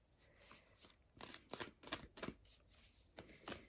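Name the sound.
shuffling tarot cards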